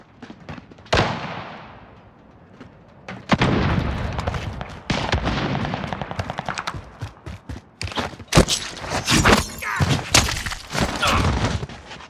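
Video-game combat with gunfire and explosions: a sharp blast decays into rumble, followed by repeated loud bursts, thuds and crackling shots that come in clusters and grow denser toward the end.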